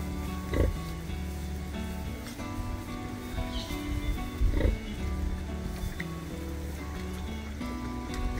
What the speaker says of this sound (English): She's a good pig.